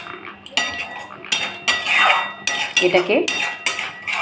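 A metal spoon scrapes and clinks against a cooking pot while ground spices are stirred for a home-style chicken and potato dish, giving irregular clattering strokes close up, with a brief spoken word.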